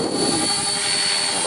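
An RC CCPM helicopter hovers in wind, its rotor and motor giving a steady high-pitched whine with a thin constant tone over a rushing, buffeting wind noise, close and continuous.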